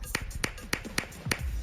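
Hand claps from a body percussion exercise, five sharp single claps spaced unevenly over a couple of seconds, close and fairly loud against a quiet room.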